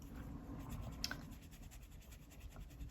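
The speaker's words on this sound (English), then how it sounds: "So I am gonna go through with just the tip of my nib. That felt nib is really wonderful for those short details." Soft, faint scratching of a felt-nib Ecoline brush pen on paper, made up of short quick strokes for small details in a pet portrait, heard close up in a quiet room.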